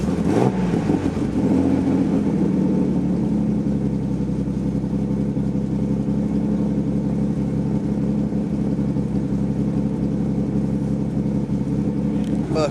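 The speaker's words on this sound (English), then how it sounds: "here I'll start it up" A Nissan Skyline R33 with an RB30 engine fires up and settles into a loud, rumbling idle close by, running steadily throughout while people talk over it.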